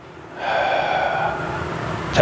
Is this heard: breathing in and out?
yes